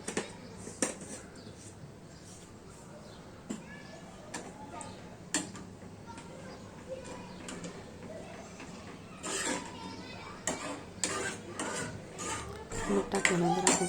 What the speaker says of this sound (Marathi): मीठ टाकल्यानंतर आपण सर्व मिक्स करून घ्यायचं आहे.